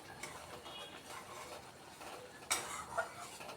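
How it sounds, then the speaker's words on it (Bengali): Yogurt curry with raw plantain being stirred in a pan, a soft steady scrape and stir carrying light ticking clinks throughout, with a sharper utensil knock near the end. "অনবরত নাড়ছি, তা না হলে দই ফেটে যেতে পারে।"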